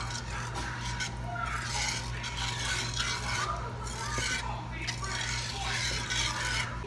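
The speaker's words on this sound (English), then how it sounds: "Whisk that constantly." A sauce being whisked constantly in a pot at a boil, a steady scraping, rasping churn of the whisk against metal that runs continuously at moderate loudness over a low hum.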